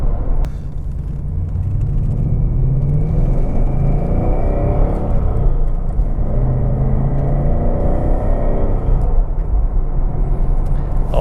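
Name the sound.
Ford Mustang GT engine and exhaust revving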